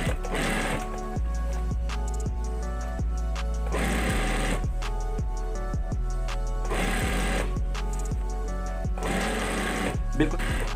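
A sewing machine stitches a curtain hem with a steady motor whir, broken into several bursts with short pauses between them, while someone talks alongside.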